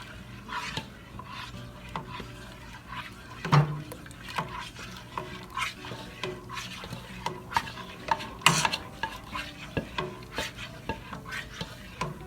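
Liquid cake ingredients are stirred in a bowl, a steady swishing and scraping with repeated clinks of the utensil against the side, close and moderately loud with no talking.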